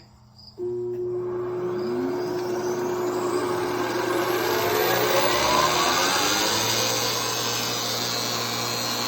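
A machine spindle spins up from quiet and then runs steadily with a toonie coin balanced upright on it. It gives a loud, continuous mechanical drone with a whine that slowly rises in pitch, and no one speaks.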